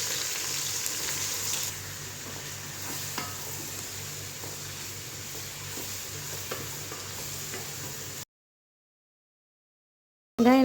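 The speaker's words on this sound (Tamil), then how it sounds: "கட் பண்ணி வச்சுருக்கிற வெங்காயத்தை சேர்த்து நல்லா ப்ரௌனிஷாக வதக்கிடலாம்." Chopped onions are sautéed with whole spices, including cinnamon, in a pan for mushroom biryani. A steady, close sizzle runs under the occasional scrape of stirring, with no voices, then cuts to silence near the end.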